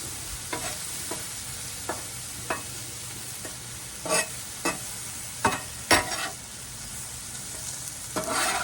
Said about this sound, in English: Onions are over here getting nicely caramelized.